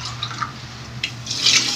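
Water is poured into a pot of cooking saba bananas, a close, soft splash and trickle that swells into a brief louder gush near the end, with no voices.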